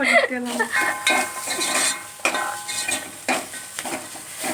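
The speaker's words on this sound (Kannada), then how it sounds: "ಒಗ್ಗರಣೆನೇ ಒಂದು ಸ್ವಲ್ಪ ಸಾಂಬಾರ್ ಒಳಗೆ ಹಾಕ್ಬೇಕು" Hot tempering is tipped into sambar for bassaru, giving a loud, close burst of sizzling. Rough bubbling hiss and stirring clatter swell and ebb in uneven waves.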